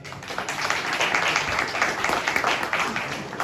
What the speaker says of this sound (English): So an applause for Vasilii.